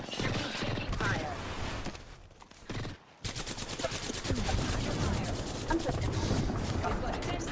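Gunfire in the video game Apex Legends, dense rapid bursts of automatic fire with a brief lull, then a sustained fast rattle of shots; a voice speaks over it.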